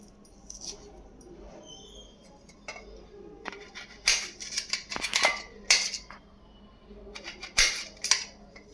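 Fresh Indian gooseberries (amla) are cut and crushed, sharp clicking and knocking hits arriving in irregular bursts, close and moderately loud, with a few quieter handling noises between.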